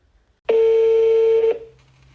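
A single steady telephone tone sounds for about a second while calling a prize winner, loud and clean, then cuts off and fades into near silence.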